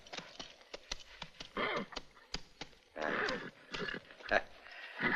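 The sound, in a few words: horse neighing and hooves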